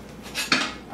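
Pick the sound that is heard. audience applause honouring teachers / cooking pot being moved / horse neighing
cooking pot being moved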